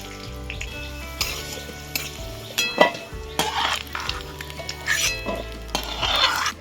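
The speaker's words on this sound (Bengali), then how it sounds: "সাদা তেল নিয়ে নিলাম প্রথমে আমি কাজু আর কিশমিশটাকে ভেজে নেব" Cashews and raisins fry in white oil for Bengali-style fried rice, a close sizzle broken by stirring, with metal utensils clinking and scraping against the pan.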